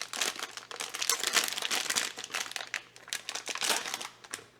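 Close, continuous crinkling of an anti-static plastic bag that wraps electronics boards, sharp irregular rustles and crackles throughout, with no talking.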